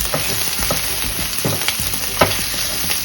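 Green beans sautéing in a pan for a Sunday dinner, a loud continuous frying sizzle close by with repeated scraping stir strokes and an occasional sharper clack of the utensil.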